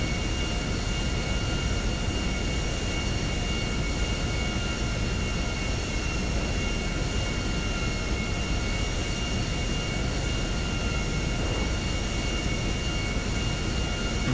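Airplane engine in a flight simulator game during a descent toward landing on a windy day, a steady, continuous drone with a whining tone, unbroken and fairly loud throughout, no talking over it.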